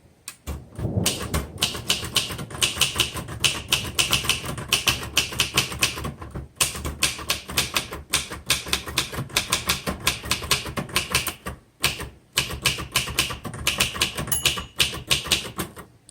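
Keys striking on a 1963 Royal Safari manual typewriter, a fast close run of sharp clacks across roughly fifteen seconds, broken by brief pauses and faint thumps of the carriage.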